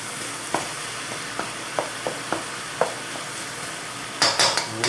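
Vegetables for beef and broccoli sizzle in a pan, a steady frying hiss under a series of sharp stirring clicks and scrapes from a utensil against the pan, with a louder clatter near the end.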